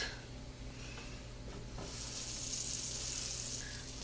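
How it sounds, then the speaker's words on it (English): Butter sizzles and crackles in a frying pan, a steady close hiss that grows slightly brighter partway through, with no talking. "we got a nice sizzle going on with the butter"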